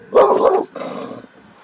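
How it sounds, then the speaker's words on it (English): A single dog barks loudly up close, a sharp bark followed by a shorter, softer one, then quiet. "She barking at cars and motorcycles."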